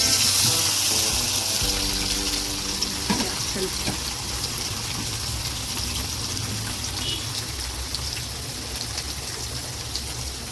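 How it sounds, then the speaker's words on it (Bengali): Paneer pieces fry in hot oil with a steady, close, bubbling sizzle and hiss that carries on evenly. "এবার চলো পনিরগুলো দিয়ে দিই, পনিরগুলো দিয়ে ভেজে নিই।"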